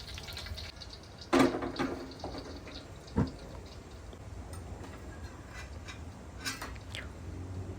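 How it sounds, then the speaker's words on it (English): Hot oil from deep-fried pumpkin being drained out of a wok, heard as a couple of brief splashy pours and a sharp clink, then quiet dripping and trickling over a low kitchen hum, with no talking. "we need to drain out the deep fried pumpkin oil from the wok"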